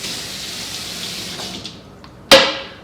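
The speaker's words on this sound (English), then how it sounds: "now I'm just gonna rinse off my cutting board" Tap water runs steadily over a cutting board being rinsed, then fades out and finishes with one sharp knock or splash near the end.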